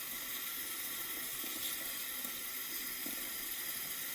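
Tap water pours steadily into a sink, filling it to soak a wig, a constant close hissing gush with no one talking.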